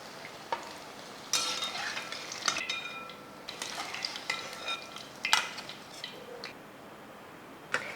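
Brinjal (eggplant) pieces frying in oil in a pan, a steady soft sizzle with scattered clicks and scraping stirs of a spoon against the pan, near and moderately quiet, no talking.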